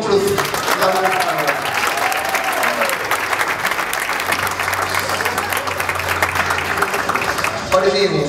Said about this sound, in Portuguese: Uma salva de palmas para os alunos.